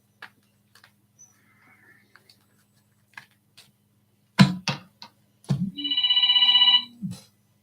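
An old-fashioned telephone rings loudly in a single long trilling burst, preceded by a few clicks and thumps from handling.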